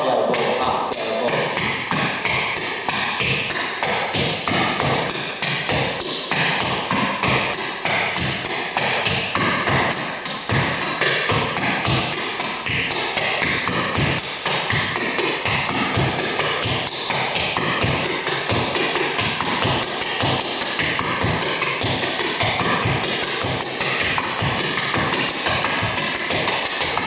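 Rapid, steady tapping of hard-soled clogging steps goes on continuously, crisp and close, in a quick driving rhythm with no pauses.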